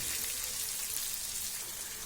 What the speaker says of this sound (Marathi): आणि तो पण असा तेलामध्ये चांगला कळसू द्यायचा